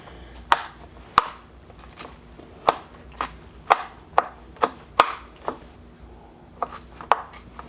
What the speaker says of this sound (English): you want to chop them very well into very fine pieces.